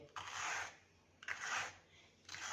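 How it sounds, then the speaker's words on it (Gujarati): Knife slicing capsicum into long strips on a board, three soft rasping cutting strokes in a regular rhythm, quiet and close with no talking. "આવી રીતે કટ લગાવીશું અને લાંબી ચીરુમાં આપણે મરચાંને કાપી લઈએ."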